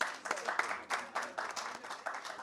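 Audience at a Cannes Classics 2024 screening of Manthan claps in a hall, a moderately loud patter of applause with rhythmic bursts and swells, fairly distant.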